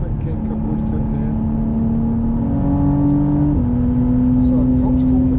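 McLaren Artura engine pulling hard on the Silverstone circuit, a steady close droning note that climbs in pitch, steps through a gearshift and keeps rising, with a person talking over it.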